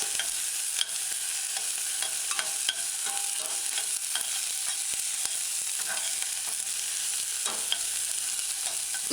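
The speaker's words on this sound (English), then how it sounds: "Add mashed garlic. Stir it. Allow it to saute few seconds." Mashed garlic sautés in a hot pan for a tin mackerel spaghetti stew, giving a steady close sizzle with soft scraping as it is stirred, and no talking.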